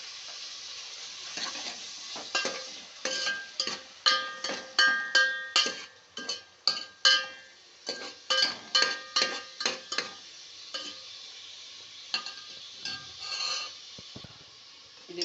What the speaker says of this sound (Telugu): ఇవన్నీ బాగా నూనెలో వేగాలండి